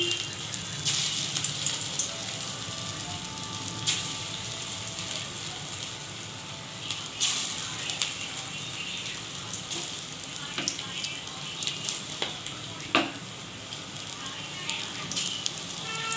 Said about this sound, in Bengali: এবার আস্তে আস্তে এটা ভাজা হবে